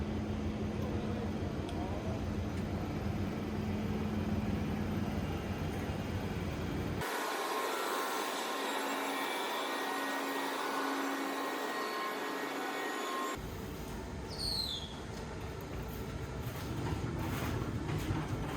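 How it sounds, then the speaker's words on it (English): An industrial dryer drying resin-impregnated wood veneer gives a steady, loud broadband roar that thins out midway, losing its low rumble for several seconds before the full drone returns. "Dry the veneer impregnated with resin in a dryer for 30 minutes."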